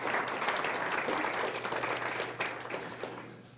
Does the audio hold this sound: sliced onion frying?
no